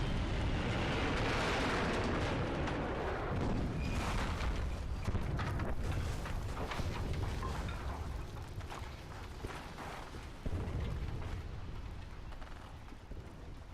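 A loud, sustained explosion roars in the video game F.E.A.R. 2, a broad rumbling blast with crackling debris that slowly decays over several seconds, without any talk.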